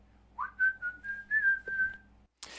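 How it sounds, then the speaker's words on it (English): A person whistles a short tune, a clear rising note followed by several steady repeated notes in a quick, even rhythm, close and alone, ending with a brief rustle. "could you whistle me something, please?"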